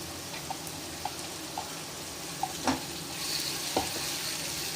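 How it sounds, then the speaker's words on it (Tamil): Ground tomato goes into shallots sautéing in a frying pan: a faint, steady sizzle with a few soft clicks and scrapes of stirring, and a slightly louder hiss near the end as the wet tomato hits the hot pan. "இப்போ வந்து நம்ம தக்காளி அரைச்சி வச்சுருக்கோம் தக்காளியை போட்டுக்கணும்"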